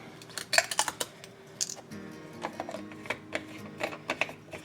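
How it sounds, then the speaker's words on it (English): Sharp plastic clicks, cap snaps and light rattles come from a new ketchup bottle being opened in a home kitchen. The sounds are close and irregular over quiet room noise. "I'm going to need a new ketchup bottle. Let me open this new one real quick."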